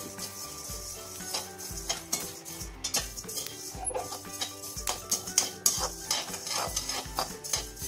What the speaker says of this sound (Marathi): हे सतत चालवत राहायचं नाही तर धने करपतात